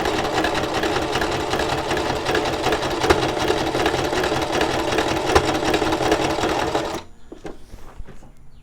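A sewing machine stitches in a fast, continuous mechanical chatter, loud and close, then stops abruptly near the end, leaving only faint scattered clicks and handling noises.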